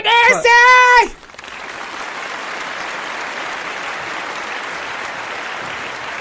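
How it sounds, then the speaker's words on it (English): Studio audience applause rings out steadily after a short spoken introduction, a broad sustained clapping wash that holds at an even level to the end. "Clap."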